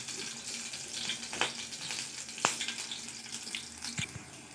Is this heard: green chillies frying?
yes